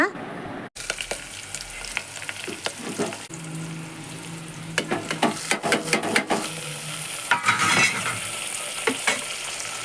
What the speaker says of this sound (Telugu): మునగాకు ఫ్రై చేసేస్తున్నాను అన్నమాట